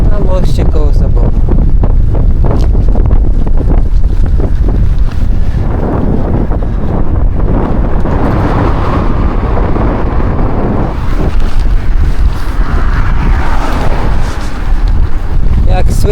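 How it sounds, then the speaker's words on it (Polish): Strong wind roars and buffets the microphone continuously while cycling across a bridge over the Oder river near Zabór, a loud, steady rush with gusts swelling and easing throughout. "Jak słychać, nieźle dmucha"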